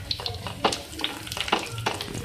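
Coriander powder is stirred into a sizzling bhindi gravy in a pan, with soft scraping spoon strokes over a steady frying hiss, close up.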